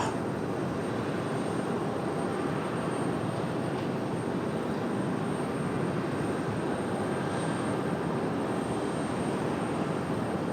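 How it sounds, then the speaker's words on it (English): A Breeze Airways Airbus A220 jet taking off at Raleigh-Durham airport, a steady, fairly distant broadband engine roar that holds level throughout with no talk. "So here we go, Breeze Airways on the move."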